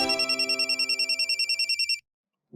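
A telephone rings with a rapid trilling electronic bell, a regular pulsed burst lasting about two seconds, then stops and briefly starts again.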